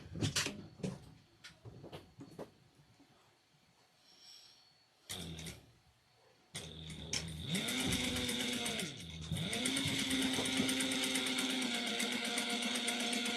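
A sewing machine stitches two lines down a triangular shoulder bag at a short 2.5 stitch length, starting after a few clicks and handling sounds and then running steadily and loudly for several seconds.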